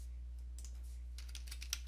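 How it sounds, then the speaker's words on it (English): Soft keystrokes on a computer keyboard, a quiet patter of taps that quickens into a cluster near the end over a steady low hum. "now you want to type in list"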